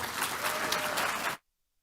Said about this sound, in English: let's please give Mark Tatum one Kean University applause for sure